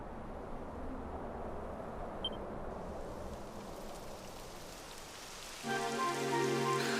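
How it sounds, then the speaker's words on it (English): Steady rain in the video game Dragon Quest XI patters down continuously with no voices, then a swelling musical tone joins near the end. "It would have to go and start raining, wouldn't it?"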